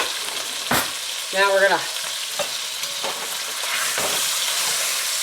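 A roast sears in salted butter seasoned with garlic powder, crackling and sizzling steadily in the pan, with a brief spoken phrase and a couple of sharp utensil knocks.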